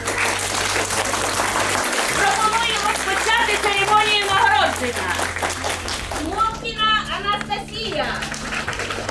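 Applause breaks out for the children's drawing contest winners and their parents at a Kharkivoblenergo award ceremony. Steady clapping fills the room while children's voices and chatter rise through it.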